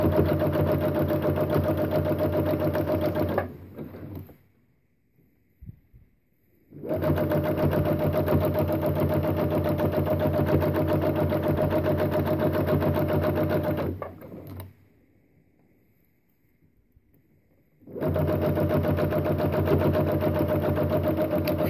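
A sewing machine stitches an owl-shaped pot holder in three loud, steady running bursts of dense motor whir, separated by pauses of near silence, close up with no voices.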